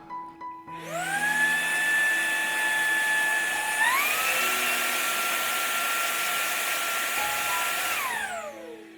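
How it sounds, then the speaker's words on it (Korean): A modern vacuum cleaner with a BLDC motor spins up to a high, thin whine, steps up in pitch partway through, holds steady, then winds down, close and alone. "요즘 청소기들은 윙 하는 소리 나지 않습니까?"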